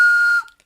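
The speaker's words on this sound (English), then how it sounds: "It's a Minnie and Mickey Runaway Railway train whistle." Minnie and Mickey Runaway Railway toy train whistle, a single loud, shrill, steady tone blown close by, held briefly and then cut off sharply, followed by silence.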